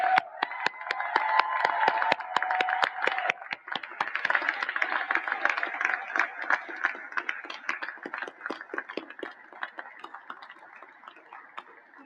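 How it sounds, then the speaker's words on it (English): A graduation ceremony audience gives a long round of applause, dense sustained clapping from many hands that gradually thins and fades toward the end, with no speech over it. "let's give them the most massive round of applause they so richly deserve."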